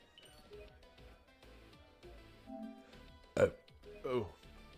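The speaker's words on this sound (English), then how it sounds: "I did not mean to burp into the mic." A single loud burp into a streaming microphone, lasting about half a second, followed by a second, weaker belching sound; both stand out over quiet background game audio.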